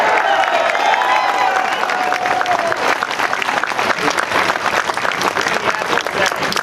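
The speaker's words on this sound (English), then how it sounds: "Come on, you can clap louder than that for Grover Norquist." Outdoor crowd at a Tea Party rally on Boston Common applauding a keynote speaker, dense sustained clapping with some cheering and a whistle at the start, loud and close throughout.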